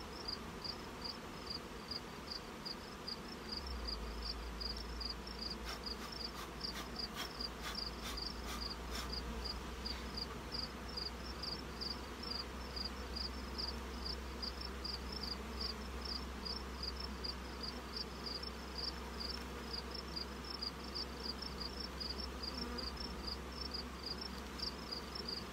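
Honey bees buzz steadily around their hives after the honey boxes are pulled, a continuous insect drone with a fast, regular high chirping pulse over a low background hum, and no voices.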